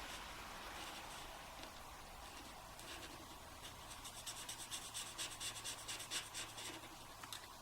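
A colored pencil rubs across paper in quiet, close strokes, starting as a soft continuous scratch and shifting to quicker back-and-forth rhythmic scribbling in the second half.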